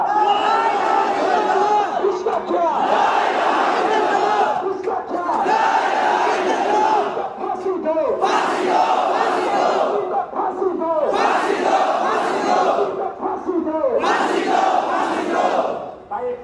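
A large crowd at a religious protest gathering in Mewat roars the Takbir slogan in loud, massed bursts that rise and fall roughly every two seconds, with short pauses between shouts.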